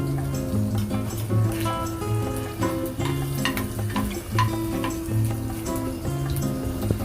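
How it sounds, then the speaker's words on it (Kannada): Crushed garlic fries in hot oil in a pan as the tempering for a capsicum fry, making a steady close sizzle with stirring scrapes and a faint tonal hum underneath. "ನಂತರ ಈಗ ಬಾಣಲೆಗೆ ಆಯಿಲ್ ಹಾಕ್ಕೊಂಡು ಒಗ್ಗರಣೆ ಕೊಟ್ಕೋಬೇಕು. ಆಮೇಲೆ ಪುಟಾಣಿಯಲ್ಲಿ ಜಜ್ಜಿಟ್ಟಿರೋ ಬೆಳ್ಳುಳ್ಳಿ ಕೂಡ ಹಾಕಿದ್ದೀನಿ."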